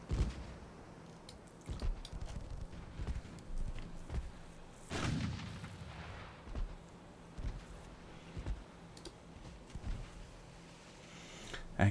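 A four-inch naval gun fires in the Ultimate Admiral Dreadnoughts naval battle game, giving repeated dull booms and thuds at irregular intervals, one heavier blast standing out midway, over a low rumbling game ambience.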